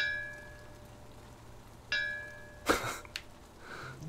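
A doorbell chime rings in the horror adventure game Nine Witches: Family Disruption, with a pair of tonal dings followed by a louder burst of game sound effects, heard alone without talk.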